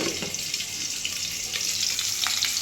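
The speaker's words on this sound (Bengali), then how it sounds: "মাছ ভাজা হচ্ছে" Hilsa fish sizzles and crackles steadily in hot oil, a continuous close frying hiss with small pops.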